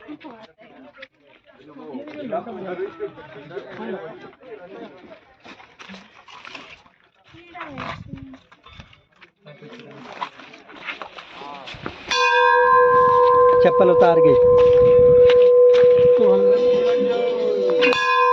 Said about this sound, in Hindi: और ये घंटा है।